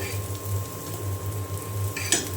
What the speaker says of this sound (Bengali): কারেন্টের চুলাতে খালি নড়াচড়া করে।